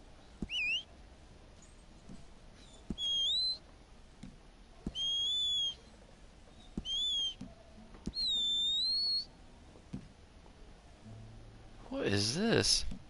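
A player in Red Dead Online blows a customizable horse whistle several times. Each is a short, bright, rising tone, with pauses between them and a quiet background, and a fuller, warbling whistle closes the sequence.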